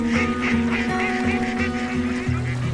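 A duck gives repeated nasal honking quacks in a quick, uneven series, loud and close, with no other sounds over it.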